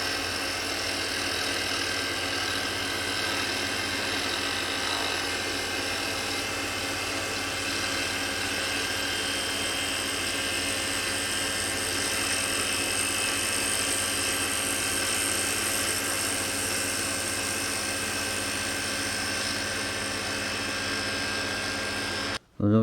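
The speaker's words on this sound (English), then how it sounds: "you want to float that bevel across that wood. We're not trying to put a lot of pressure on the skew." A skew chisel is floated lightly across spinning wood on a lathe while turning a snowman box. A steady, dense whirring hiss carries on unbroken and fairly loud for the whole stretch, then cuts off abruptly at the very end.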